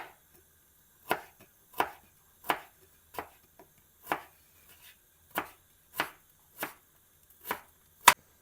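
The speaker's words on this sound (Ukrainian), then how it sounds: "Зараз нарізаю кальрапку" Steady knife chops through kohlrabi on a cutting board, about ten sharp strikes at an even, unhurried rhythm, close and clear with quiet pauses between them.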